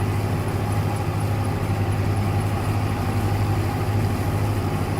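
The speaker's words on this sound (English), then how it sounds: "Hopefully the engine's not too loud." A tractor engine idles in Farming Simulator 22, a steady low rumbling drone that holds evenly and fairly loud for about five seconds with no talking.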